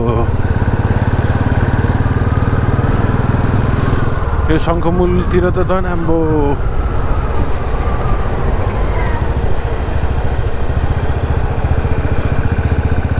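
Motorcycle engine hums steadily up close while riding through a jammed inner road in traffic, with a passing horn or vehicle tone mid-way and someone talking over it.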